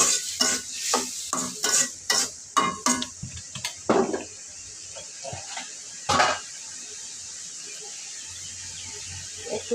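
Spice paste with cumin powder frying in a pan, with a run of sharp scraping stirring strokes against the pan over a faint sizzle, then mostly quiet sizzling with one more stir.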